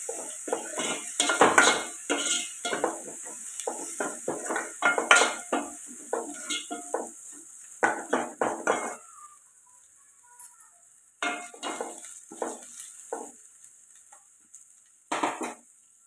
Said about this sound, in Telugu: అల్లం వెల్లుల్లి పేస్ట్ కూడా పచ్చివాసన పోయేదాకా ఫ్రై చేసుకోవాలండి